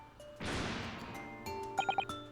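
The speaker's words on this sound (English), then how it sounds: "Okay, that was the first explosion." A sudden broadband explosion burst from The Great Ace Attorney 2 video game, loud and sustained for about a second before fading, followed by a few short bright chime-like blips.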